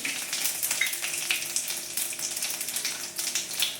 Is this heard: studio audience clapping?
no